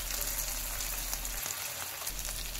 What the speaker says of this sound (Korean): 이제 양념이 졸아들 때까지 볶아주시면 되는데요.